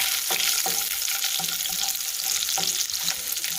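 Bacon frying in a pan, a close, steady crackling sizzle with a few louder pops and spits scattered through it, heard alone without talk.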